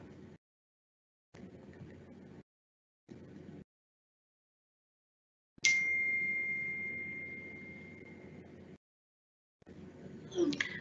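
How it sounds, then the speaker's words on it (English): A notification chime sounds once during an online meeting, a bright tone that rings out and fades slowly, heard between quiet stretches with no talk over it. "I'm just getting a notification that there is one more comment just before we finish"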